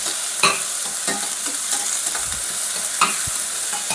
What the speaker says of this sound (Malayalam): നമുക്ക് സവാള ചെറുതാക്കി അരിഞ്ഞ് വച്ചേക്കുന്നത് അത് ഇട്ടു